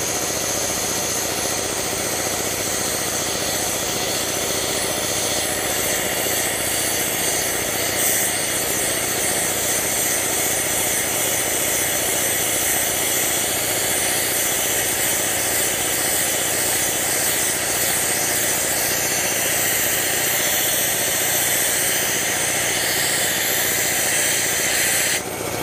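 An air compressor running after start-up, suspected of a faulty pressure switch, giving a loud, steady motor drone with a fast mechanical pulsing that holds constant and close for the whole stretch.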